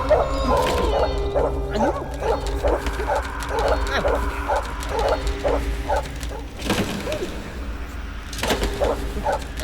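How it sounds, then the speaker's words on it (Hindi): A dog barking at night, a series of repeated rhythmic barks at moderate distance, pausing midway and resuming, over a low background hum with some brief rustling. "कौन है कुत्ता भौंक रहा है?"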